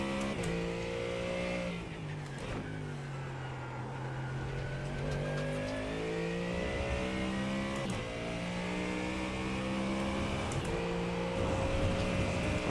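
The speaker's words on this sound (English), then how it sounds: "Sounds like a Mustang, yeah." A Mustang GT3 race car in iRacing revs and shifts through its gears, its engine note rising and falling over a steady track drone, fairly faint and without talking.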